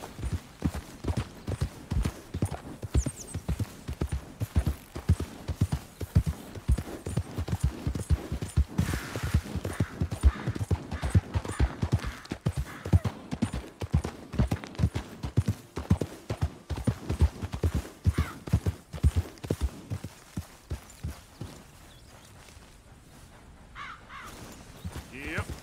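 Horse hooves gallop in a fast, steady clip-clop rhythm through most of the scene in Red Dead Redemption 2, then ease off near the end, with some talk over the hoofbeats.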